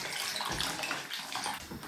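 Tap water running steadily into a pan of peeled potato chunks, a continuous close splashing rush with no talk.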